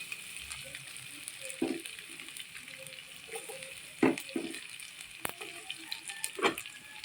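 Garlic fries in the oil left from frying chicken gizzards, a quiet steady sizzle broken by a few sharp scraping clatters from stirring.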